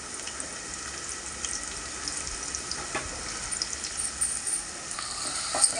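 Three onions fry in a pan with a soft, continuous hiss and scattered small crackles, close by and fairly quiet.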